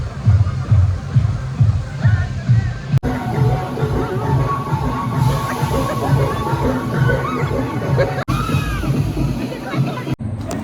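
Heavy water sloshing and splashing at a water park, where a big bucket dumps water, with a dense, loud roar of falling water and crowd noise running continuously.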